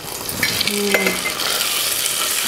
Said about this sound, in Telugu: ఇలా మంచిగా అది వేయించుకొని బెల్లం అన్నలో వేసేయాలి